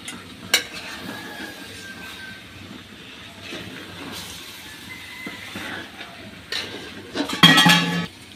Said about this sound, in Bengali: এটা ভাজি করতেছি